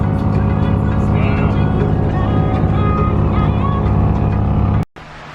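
Nissan S14 fitted with an RB engine drives along with a loud, steady engine drone, a rattle thought to be a driveshaft bolt or midsection exhaust blending in, before the sound cuts off abruptly near the end.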